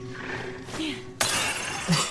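Glass shattering in the video game Resident Evil Requiem, a sudden loud crash of breaking panes with scattered tinkling debris after a low ambient hum, a short voice sound following.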